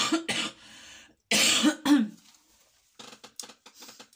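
Several harsh coughs and throat-clearing bursts come in quick clusters up close, followed by softer rustling noises.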